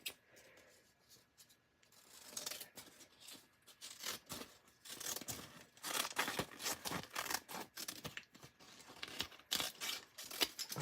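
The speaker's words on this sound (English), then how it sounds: "I'm going to have to cut off some on the left side here so that it will fit." Fabric being cut for a thrift flip: a string of crisp scissor snips and rustling material, quiet at first, then busier and louder in irregular bursts.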